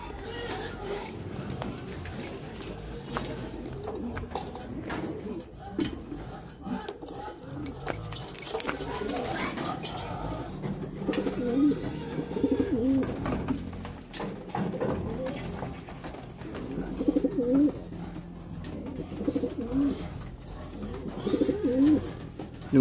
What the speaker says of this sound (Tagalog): Panuin na natin mga kalapatids.